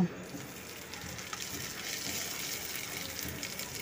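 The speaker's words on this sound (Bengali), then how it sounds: "এরপর তেলের মধ্যে আমি প্রথমে আদা রসুন আর লঙ্কাটাকে প্রথমে ভেজে নেব।" Ginger, garlic and green chili frying in hot oil, a faint, even hiss of sizzling that holds steady throughout, without any voices.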